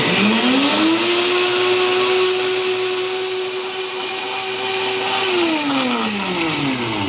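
A KitchenAid Pro Line blender motor spins up with a rising whine, holds a steady loud roar for several seconds, then winds back down, with no talking over it.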